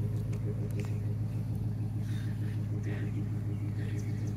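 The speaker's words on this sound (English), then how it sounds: "There's like some sort of ruts in there that the vehicle's fighting, so it's not letting it come out." An off-road vehicle strains in soft ruts during a winch recovery, its engine a low, steady rumble that drones continuously without pause, with faint scattered noises over it.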